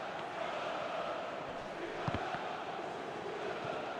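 A football stadium crowd at a Champions League match between Benfica and Red Star Belgrade gives a broad, sustained roar of appreciation, with a steady wash of distant voices.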